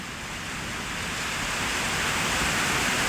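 Constant, dense hiss of rain falling steadily, growing slightly louder, with no voices.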